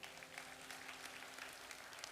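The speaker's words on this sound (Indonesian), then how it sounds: "Kasih tepuk tangan." A church congregation applauds during an Indonesian worship service, giving a steady, dense wash of clapping heard from a distance at low level, with a faint hum underneath.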